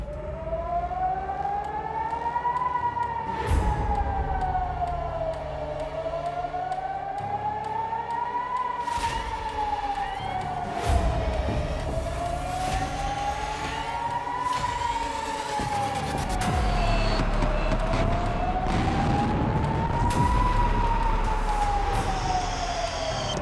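A loud wailing siren rises and falls in slow, steady cycles, sustained throughout with a low rumble and some clatter underneath.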